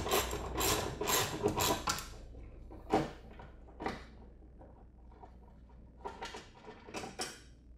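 A wrench clicks and rattles while a 10 mm tool loosens the headlight ballast bolts on a BMW E46 M3, with quick bursts of metallic ratcheting separated by short pauses, close up.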